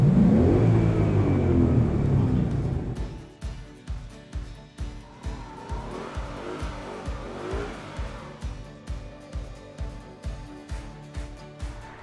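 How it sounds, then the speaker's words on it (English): A Ford Mustang V8 roars loudly for a few seconds, then settles into a rhythmic, pulsing engine burble that repeats at a steady pace close to the microphone, with faint whirring and tire sounds. "the choice of an amazing V8 engine"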